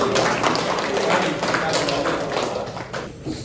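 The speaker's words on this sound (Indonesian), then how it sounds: "kita beri aplaus untuk kelompok 1" A classroom group applauds together, dense steady clapping from several people at close range filling the whole stretch, thinning slightly toward the end.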